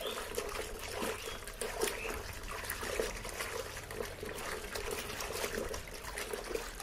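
Clothes being washed by hand in a bucket of water with a left-and-right motion, giving continuous soft sloshing and trickling at close range, fairly quiet with no talk.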